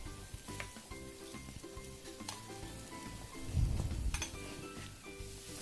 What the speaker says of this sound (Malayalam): വെജിറ്റബിൾസ് ഇട്ട് നന്നായിട്ട് ഇളക്കി കൊടുക്കാം.